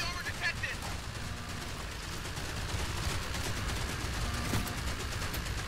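Continuous gunfire in the shooter game Outpost: Infinity Siege, a dense crackle of rapid shots with a few sharper reports, running under steady game noise throughout.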